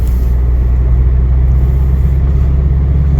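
Steady low road rumble and engine drone from inside a car driving around a reservoir, loud and continuous with no talk.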